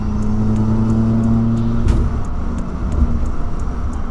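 A Subaru fitted with an aftermarket axleback exhaust, its engine droning with a steady low rumble and a brief rev swell near the middle, close and loud throughout.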